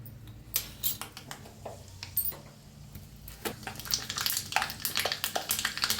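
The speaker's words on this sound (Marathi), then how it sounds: "आता तेल चांगलं गरम झालंय, त्याच्यात टाकूया अर्धा चमचा मोहरी" Half a spoon of mustard seeds dropped into hot oil in a pan, giving close scattered pops and crackles over a soft sizzle that builds toward the end, with a few clinks of a utensil.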